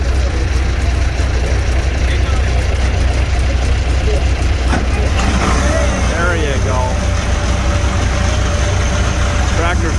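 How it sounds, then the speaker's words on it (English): An old tractor engine runs hard and loud at a farm auction sale, a steady heavy rumble that never lets up. Someone speaks briefly over it. "She's all fired up, ripping and roaring."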